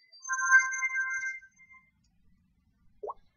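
A phone ringtone plays a short electronic melody of sustained tones for about a second and a half, clear and moderately loud, then stops, with a brief faint noise afterward.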